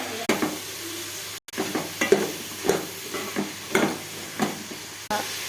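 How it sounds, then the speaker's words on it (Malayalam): A spoon stirs sambar with onion, tomato and brinjal in a pan, repeated scraping and clinking strokes over a low sizzle, close and rhythmic with no talking. "നന്നായിട്ടൊന്ന് മിക്സ് ചെയ്ത് കൊടുക്കണം"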